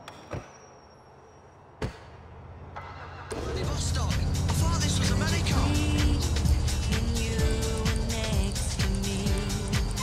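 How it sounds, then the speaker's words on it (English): A car in the video game GTA IV starts up and drives through Liberty City, the engine and road noise rising into a steady loud drone after a few door and handling clicks, with character dialogue over it. "Nico, you're driving us to a hardware store on Dillon Street."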